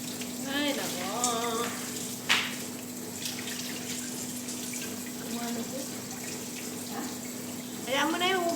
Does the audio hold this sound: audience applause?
no